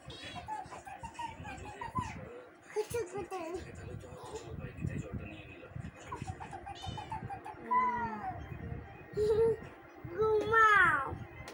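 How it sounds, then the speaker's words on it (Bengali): A cat meows several times, the drawn-out cries growing louder toward the end, over a close voice talking and background household noise. "মিনি বিড়ালের কাতু কুতু দাও"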